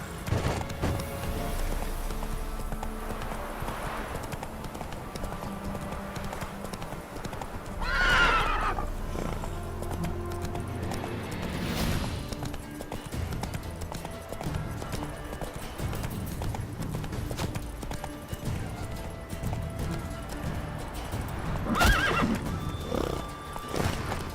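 A horse in The Witcher 3 game neighs loudly twice and gallops with a steady clip-clop of hooves throughout, set against an ambient soundscape.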